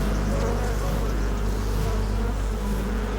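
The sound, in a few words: swarm of honey bees buzzing at a beehive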